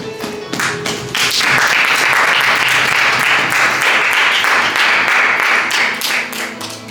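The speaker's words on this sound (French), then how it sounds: "On peut acclamer la parole de Dieu." A church congregation bursts into sustained applause for the word of God during a sermon, loud and dense clapping that swells after a moment and holds steady, with a few scattered voices underneath.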